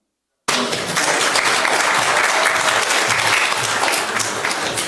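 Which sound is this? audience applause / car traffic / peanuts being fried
audience applause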